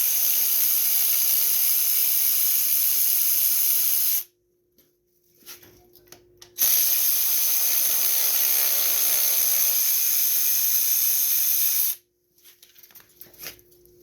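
15/16 bolts are backed off with a socket on a Craftsman 5.5 hp pressure washer: a loud, steady, hissing tool whine runs about four seconds, stops, then returns for several more seconds before cutting out.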